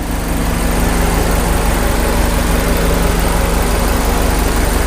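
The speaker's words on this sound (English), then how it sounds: "It's just electric fans kicking in." Electric cooling fans running in the engine bay of a 2002 Subaru WRX STi Prodrive Edition, a loud steady whirring roar layered over the idling engine, close and unbroken with no talk.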